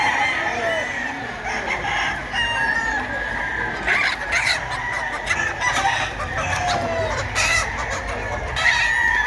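Sweater gamefowl roosters at a hobby expo and pet convention crow and cluck almost without pause, with several birds calling over one another in a steady, busy din.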